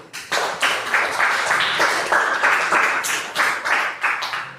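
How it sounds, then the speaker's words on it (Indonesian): A burst of close, dense hand clapping from a small group in a classroom session, continuous for several seconds with uneven pulses, no talking. "Tepuk tangan buat Deus."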